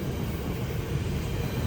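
A GO commuter train arrives at a platform, filling the air with a steady, loud, broadband rumble and roar that holds constant throughout, with no voices.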